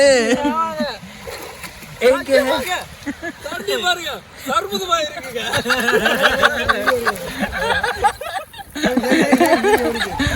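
People bathe and swim in Akkarayankulam, a village pond near Jaffna, Sri Lanka; water splashes intermittently close by while someone talks almost continuously and others chatter and laugh in the background.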